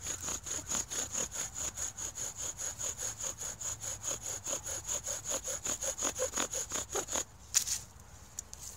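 A bow drill spins back and forth on wood for friction fire, giving a steady rhythmic rasping squeal with regular strokes about three per second, close up, ending with a few scuffs.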